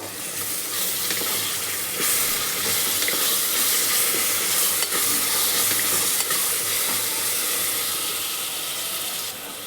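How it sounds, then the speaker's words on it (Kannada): Ginger garlic paste fries in oil for a vegetable biryani, a dense, loud, hissing sizzle with a faint stirring clatter, constant throughout and with no talking. "ಶುಂಠಿ ಬೆಳ್ಳುಳ್ಳಿ ಪೇಸ್ಟ್ ಹಾಕೋತಾ ಇದ್ದೀನಿ ಮೇಲೆ ಹೋಗೋವರೆಗೂ ಚೆನ್ನಾಗಿ ಎಣ್ಣೆಲಿ ಫ್ರೈ ಮಾಡ್ಕೋಬೇಕು"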